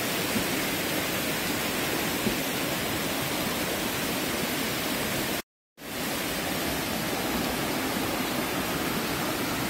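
Tad Sae waterfall near Luang Prabang, Laos, produces a steady, loud, broadband rush of falling water that stays constant, broken only by a brief moment of total silence midway.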